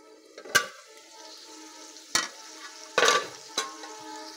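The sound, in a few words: mutton with garlic being sautéed in pan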